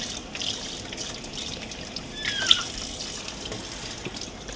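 Tap water runs steadily at moderate volume during a Ragdoll kitten's bath, with a soft continuous trickle and a few small splashes and drips close by.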